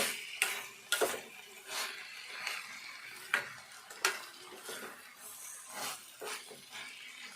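Chopped cabbage stir-fried in a pan, with a spatula scraping and tapping against the metal in irregular clicks and knocks, fairly close but quiet, with no voices.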